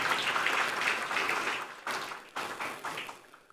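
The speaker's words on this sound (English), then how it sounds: "Please a round of applause for him" A crowd at the launch of a Niger Delta youths internship scheme claps in honor of Chief Samuel Obuku. The quiet, moderate clapping swells briefly, then breaks into scattered bursts that taper off.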